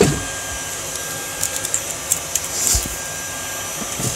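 A Rainbow vacuum cleaner runs with a brush attachment, a steady close whooshing drone with faint brushing scuffs and small bumps, no talk.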